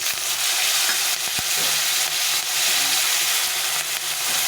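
Chopped tomato hitting a pan with green chillies and onion, a steady loud frying hiss with a few soft stirring knocks, close and continuous with no talking.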